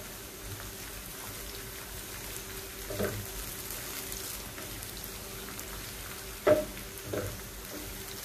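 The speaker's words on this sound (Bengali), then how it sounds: "পেঁয়াজগুলি নরম হয়ে আসলে এখানে কয়েকটা কাঁচামরিচ দিয়ে দিব" Onions and slit green chillies frying in a pan produce a soft, steady crackling sizzle like light rain, with a few louder spatters and clinks, heard close and without any talking.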